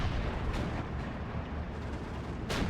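A Valentine tank fires in a World War II strategy game, with muffled distant booms at intervals over a constant rumble of battle, the last shot sharper and louder near the end, and no talking.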